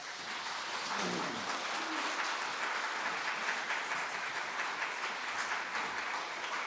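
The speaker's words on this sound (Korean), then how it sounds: "우리는 뜨겁게 박수하겠습니다" Sustained, fairly distant applause from a church prayer-meeting congregation while gifts are handed to children, a steady even wash of many hands with little voice on top.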